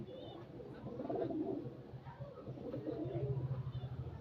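A kalodom pigeon coos in low, rolling bursts, close by, with soft murmuring in the background.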